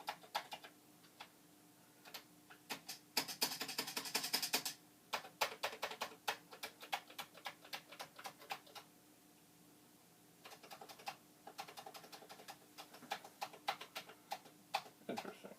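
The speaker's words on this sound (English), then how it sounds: "When I hit the 0 key, I get a 0." Irregular clatter of keystrokes on a Commodore 64 keyboard, with dense bursts of rapid typing broken by short pauses and single taps, close by with no talking.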